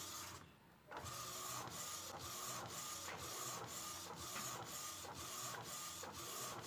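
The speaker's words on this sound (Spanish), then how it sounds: "Siempre imprime 8 tiempos y descansa uno." Epson WorkForce 1100 inkjet printer printing a page: a steady mechanical whir with regular rhythmic clicks as the print head passes, repeating in an even cycle, close and fairly quiet.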